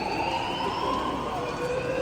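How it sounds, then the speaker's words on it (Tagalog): A fire alarm goes off during a fire drill at a fire safety seminar, a loud, continuous electronic wail holding steady tones, with a faint background murmur beneath it. "Nag-alarm na po."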